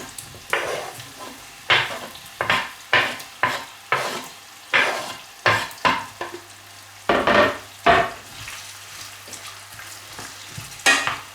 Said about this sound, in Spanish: Ponemos a sofreír la cebolla